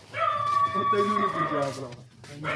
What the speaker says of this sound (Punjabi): ਆੜੀ ਭੌਂਕੀ ਜਾਂਦੀ ਅੰਦਰ ਕੁੱਤੀ